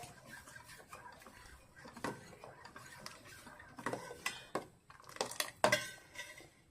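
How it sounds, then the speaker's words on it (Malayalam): Aval payasam, a sweet flaked-rice pudding, being stirred in a pan, with a spoon scraping and clinking against the metal in irregular strokes, some sharper knocks near the end, and no talk. "നന്നായി നമുക്ക് മിക്സ് ചെയ്യാം."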